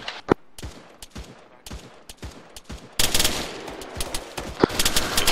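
Gunfire in the military video game Arma 3: spaced sharp single shots at first, then a dense rapid burst of automatic fire with overlapping cracks, loud and close.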